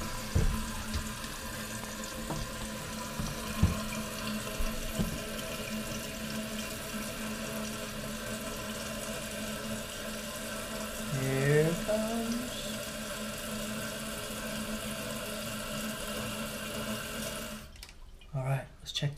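A toilet tank refills after its hose was repaired, with a steady rush of running water that swells briefly near the end and faint voices in the background.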